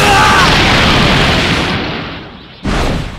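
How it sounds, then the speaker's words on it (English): The Special Beam Cannon ultimate attack in Dragon Ball Legends lets out a loud, close explosive blast that erupts at once, fades away, then bursts out again in a second hit near the end. "Special Beam Cannon!"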